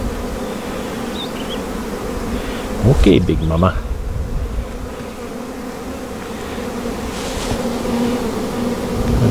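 Steady close buzzing of many honey bees around an open hive during a hive check, with a brief burst of handling noise and a short spoken remark partway through.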